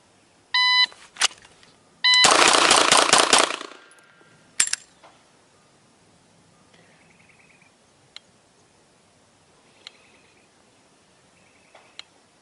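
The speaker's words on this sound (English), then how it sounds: "we're going to take it out to the range and shoot the Gabe White standards" A Beretta M9A3 pistol at an outdoor range: a shot timer beeps, then a dense, loud burst of rapid gunfire lasting about a second and a half, followed by scattered faint clicks and short beeps.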